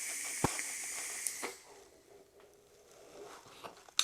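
Vape hit drawn through a Youde Goblin RTA tank: a soft, airy hiss with a few sharp clicks and crackles, fairly close and quiet, fading after the first couple of seconds.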